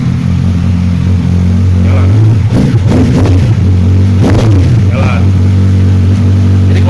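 A vehicle engine fitted with an immobilizer anti-hijack key, started with the starter, runs with a steady low hum throughout, with a few sharp clicks and knocks and people talking over it.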